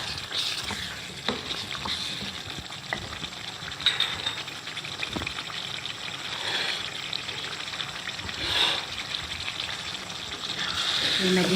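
Water poured into a pan of Mughlai pasanda frying on the stove sets off a soft, steady sizzle with light bubbling that swells and fades across the clip, heard alone without talk.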